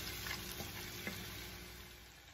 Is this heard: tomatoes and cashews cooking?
yes